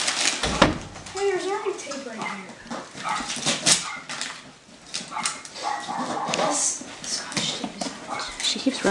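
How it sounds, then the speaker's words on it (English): A dog barks and yips amid people talking nearby, with some whimpering and rustling between the short barks. "What are you barking at?"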